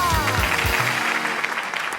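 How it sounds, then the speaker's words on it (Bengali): Studio audience at a televised comedy show grand finale applauds in a dense, steady wash of clapping that fills the clip, with a brief voice heard near the start. "তাদের জন্য করতালি হয়ে যায়"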